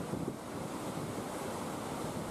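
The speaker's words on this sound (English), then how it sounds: "The rapids along the Whitewater Walk are viewed as perfect, as the rapids are simply formed by the movement of the water." Roaring whitewater rapids on the Niagara River, a dense steady rush of churning water heard up close and alone, with some wind buffeting the microphone.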